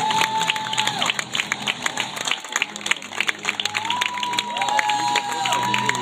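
Audience applause and cheering at the Mister Gay World 2016 final show after Brazil is named fourth runner-up, a steady crowd roar of clapping with a host's voice sustained over it through most of the stretch.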